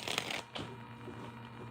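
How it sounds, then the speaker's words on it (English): A deck of tarot-style reading cards is shuffled close up: a short riffling burst followed by a brief slap, then quiet room tone, all faint and without speech. "As I shuffle the deck"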